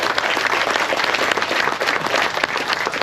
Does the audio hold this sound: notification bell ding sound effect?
no